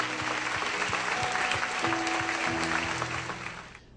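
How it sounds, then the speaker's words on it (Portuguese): A congregation in a church service claps together, steady and dense from start to finish, with a few voices faint underneath, and the applause tapers off at the very end. "Vamos aplaudir o nosso Rei Jesus, que Ele é digno."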